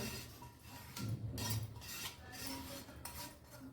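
Dry-roasted coconut scraped out of a pan with a metal spoon, giving close scraping and clinking of utensil against cookware in several bursts, with no talk.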